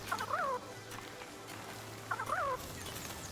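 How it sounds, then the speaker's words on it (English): Chicken in the Palworld video game giving two short, identical warbling calls about two seconds apart, fairly quiet over a low background hum. "Why is the chicken not doing anything?"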